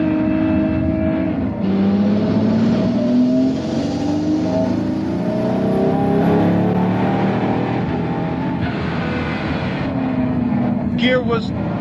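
A Pagani Huayra Codalunga long-tail supercar with 840 horsepower accelerates hard from about 60 km/h. The engine rises through gears in loud, sweeping revs, with someone speaking over the roar.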